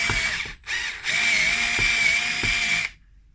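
A power screwdriver whirs steadily while driving long screws into a Schecter Hellraiser seven-string guitar, a close, continuous high motor whine broken by one short pause before cutting off.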